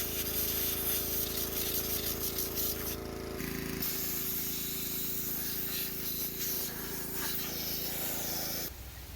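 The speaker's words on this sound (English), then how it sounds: "Start the air compressor and get blasting." Compressed air from an air compressor blasts in loud hissing bursts to clean parts of a 1950s woodsplitter, with a steady motor drone underneath that cuts off near the end.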